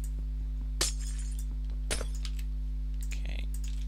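Glass panes shattering in Minecraft, FTB Monster modpack: two crisp, separate breaking crashes about a second apart, then smaller tinkling clinks, over a steady low hum.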